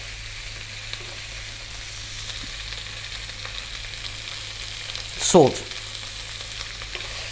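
Garlic ginger paste frying in hot oil beside onion and fresh chili, a steady close hiss running throughout, broken by one brief louder sputter and a single short spoken word.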